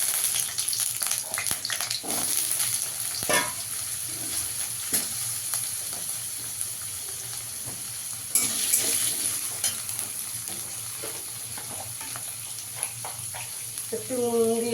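Potatoes frying in oil in a kadai, a steady soft sizzle running throughout with occasional stirring scrapes and clinks, close by; no one talks.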